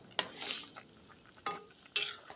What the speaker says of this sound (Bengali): কিছুক্ষণ এপিটুপিট নাড়িয়ে নেব